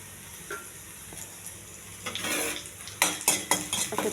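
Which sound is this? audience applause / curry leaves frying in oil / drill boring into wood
curry leaves frying in oil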